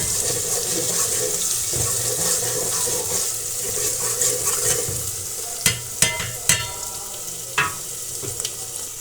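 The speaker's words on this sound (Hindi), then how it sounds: "तो प्याज जो है लाइट ब्राउन होने तक हम इसका वेट करेंगे।" Onions frying in a pan until light brown for a peas and potato curry: a steady close sizzle with stirring, then several sharp scraping clinks of a spoon against the pan near the end, no talking.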